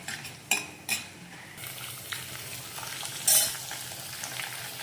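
Onions and green chillies frying in a pan on low flame for a ridge gourd curry, a soft steady sizzle with a few sharp clinks of a spoon against the pan and a louder stir near the end.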